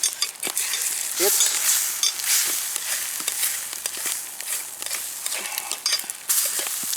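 Steady crackling sizzle of food frying in a stainless steel pan over an outdoor Dakota pit fire, with occasional scrapes and clinks of a utensil stirring against metal.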